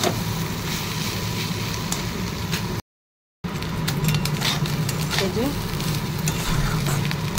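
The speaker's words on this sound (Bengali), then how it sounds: "এটাকে ভালো করে ভাজাভাজি করবো, দিয়ে কষবো" Tomatoes and spices fry with rice and lentils in a pan for khichuri, giving a steady, close sizzle with stirring scrapes throughout, broken once by a brief drop to silence.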